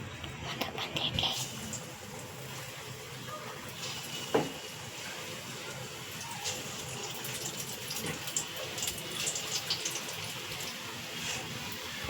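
Onion bajji batter is dropped into hot frying oil, giving a steady, quiet sizzle with one sharper splash partway through, while a voice talks softly over it.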